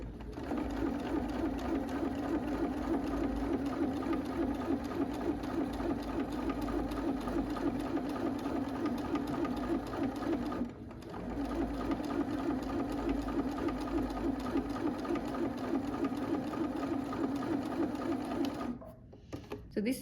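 A home sewing machine stitching through fabric with white and brown thread, a steady fast mechanical whirr running close and continuously, pausing briefly once and stopping near the end.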